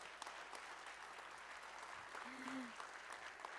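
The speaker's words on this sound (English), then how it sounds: "Can we give them a round of applause as well?" Audience at a university employee event claps in a steady, dense round of applause, heard faintly and somewhat distant, with a brief voice sounding over it partway through.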